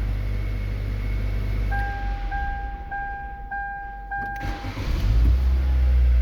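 A Hyundai Solaris with a starting fault runs close by with a low, steady engine rumble. A series of electronic chime beeps sounds over it midway, and the engine swells louder near the end.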